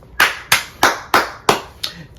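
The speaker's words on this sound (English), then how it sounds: "let's give them a hand clap" Six sharp hand claps in a steady, evenly spaced rhythm, close and fairly loud, with nothing else audible between them.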